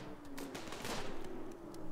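Rapid gunfire from the colony sim Rimworld during a fight with rhinos, a quick burst of several close, sharp shots over a low background hum.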